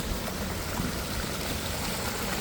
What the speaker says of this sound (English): Got a little waterfall setup going here. But again, look at the velocity of the water coming down.